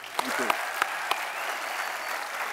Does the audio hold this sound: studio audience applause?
yes